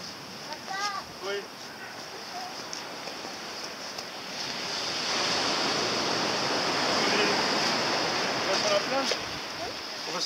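Ocean waves wash onto a beach in a steady broadband rush that swells louder midway, while people talk nearby.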